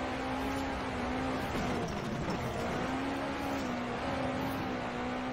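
Car engine in Forza Horizon 4 held at a steady high drone while the car drifts through a snowy course, with pitch wavering slightly but no break or pause across the whole stretch, loud and close.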